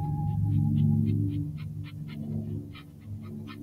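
A dog in a text-based horror video game barks in a run of short, repeated bursts over a steady low droning hum, fairly close and without any talk.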